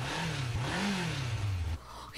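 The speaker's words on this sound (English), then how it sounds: "A motor engine?" A motor engine revs in the Persona 2: Innocent Sin video game, a loud, close whine whose pitch swoops up and down before cutting off abruptly.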